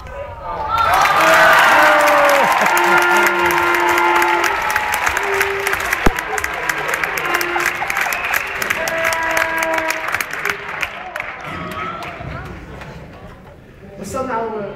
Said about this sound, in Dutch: Was dat nou oud applaus?